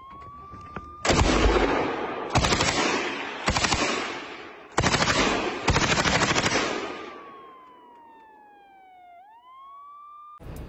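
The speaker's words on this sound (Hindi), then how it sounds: "यूक्रेनी सैनिक मशीन गन से लगातार ताबड़तोड़ गोलियां बरसा रहे हैं" Several loud bursts of rapid automatic machine-gun fire from soldiers in Lviv, Ukraine, each lasting about a second, with a wailing siren sliding up and down underneath and continuing after the shooting stops.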